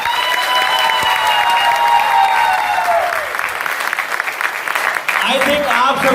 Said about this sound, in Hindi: एक बार जोरदार ताली के साथ।